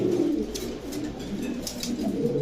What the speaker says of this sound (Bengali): সারানপুরি নট যেটা ডাকতেছে